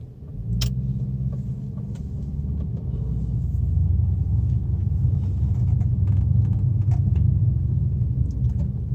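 Infiniti car pulls away and drives at low speed, a steady engine and road rumble filling the interior, with a brief click near the start and small rattles over the drone.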